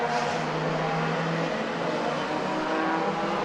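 National Hot Rod race cars racing on an oval raceway, a continuous distant engine drone from the pack rising and falling in pitch as they run through a turn.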